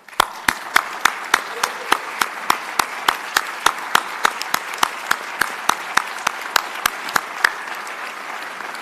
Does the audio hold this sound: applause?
yes